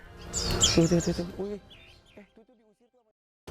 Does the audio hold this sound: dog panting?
no